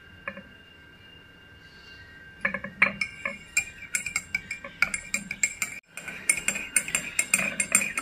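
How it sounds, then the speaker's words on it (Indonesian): A metal spoon clinks steadily against a cup while stirring cinnamon-stick tea with honey, close and fairly quiet, in a rapid irregular rhythm after a short quiet lead-in. "Kemudian di sini saya akan aduk-aduk supaya tercampur dengan rata teh kayu manis dan juga madunya."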